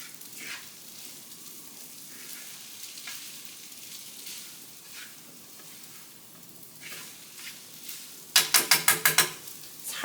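Scrambled eggs broken up and stirred into ramen noodles in a frying pan, a steady soft sizzle with light spatula scrapes, ending in a quick run of sharp metallic taps against the pan, close and without talk.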